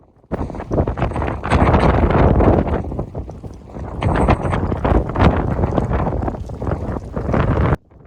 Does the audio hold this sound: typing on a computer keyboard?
no